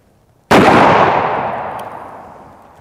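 A 500-grain projectile travelling over 1,600 feet per second is fired at Kevlar body armour. A single very loud, sharp gunshot bursts out and then rings off in a long decaying tail.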